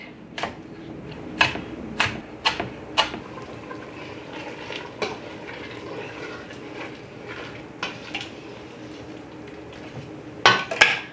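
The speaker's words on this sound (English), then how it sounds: "I can get my green onion cut up while I'm waiting for that." A knife chops green onion on a cutting board beside a simmering pot of pumpkin black bean chili, giving sharp, close taps: a quick cluster of five early on, scattered single strikes later and a final burst, over a steady low kitchen background.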